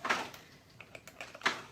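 Scattered clattering and knocking noises from a dog playing with a toy, a few sharp hits spaced irregularly at moderate volume.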